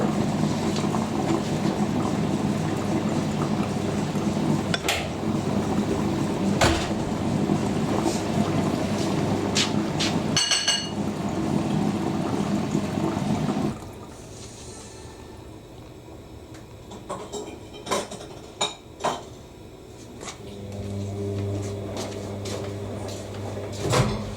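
A Siemens IQ300 washer dryer on a cottons 90°C cycle filling with water through the detergent drawer, a steady rushing flow that suddenly cuts to quieter trickling and clunks, then a low hum resumes.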